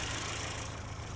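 A 2022 Hyundai Santa Cruz's 2.5-liter turbocharged engine idles steadily with a low, even rumble and a faint whine, holding constant throughout.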